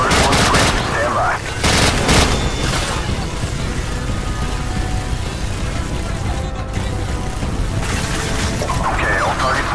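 Heavy sustained gunfire rages in a Call of Duty 4: Modern Warfare firefight against a fortified fifth-floor position, dense overlapping bursts and booms filling the scene with brief radio-style voices cutting in.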